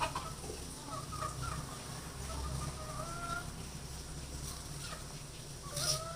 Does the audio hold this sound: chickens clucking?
yes